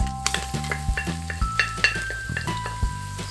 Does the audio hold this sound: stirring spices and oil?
yes